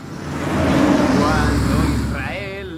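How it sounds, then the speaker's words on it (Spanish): A car swells in from a distance, its engine roar rising steadily in volume and then holding strong before easing slightly, with a faint higher whine toward the end. "esa subida intencional parece que un coche se ha acercado más"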